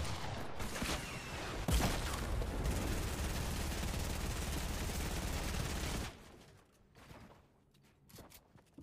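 Intense video game gunfire, a dense barrage of rapid shots and bursts that stays loud for about six seconds, then cuts out to quieter scattered pops and rumble.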